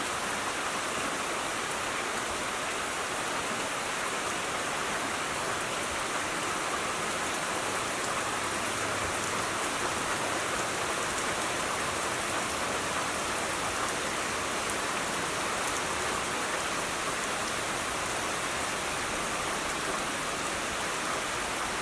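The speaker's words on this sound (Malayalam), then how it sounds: "ഇവിടെ ശരിക്കും മഴ പെയ്യുമ്പോഴുണ്ടല്ലോ കാണാൻ വേണ്ടിയിട്ട് നല്ല ഭംഗിയാണ്" Rain falls steadily among trees in the late afternoon, a continuous, even hiss of drops on leaves that holds at a constant level throughout with no voices.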